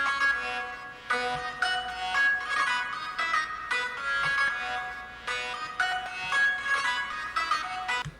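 Two synth leads in FL Studio, a Sakura clavichord and a square lead, playing a bright melody together in short repeated phrases, steady and moderately loud with no voice over them.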